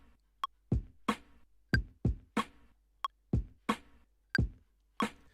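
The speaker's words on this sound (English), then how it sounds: "So I've recorded in some kicks and snares there and they sound like this." Kick and snare drum hits programmed as a MIDI clip in Ableton Live, a steady alternating pattern of about a dozen punchy, dry hits with a low thumping kick and a brighter snare, loud and alone.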